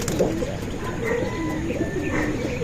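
Domestic pigeons coo in low, soft, overlapping calls close by, with a few higher chirps mixed in over a steady outdoor background.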